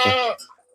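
A goat gives a single loud, close bleat in a village goat shed, a short wavering call followed by a faint trailing sound.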